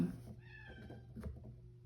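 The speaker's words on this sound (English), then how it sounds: "don't know if you can hear my cat" A cat meows and cries from outside a closed door, faint and muffled, a couple of short plaintive calls over quiet room noise.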